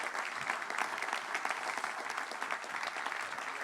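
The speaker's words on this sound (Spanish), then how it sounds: "Dele un aplauso." A church congregation claps together in dense, steady applause that holds evenly for a few seconds.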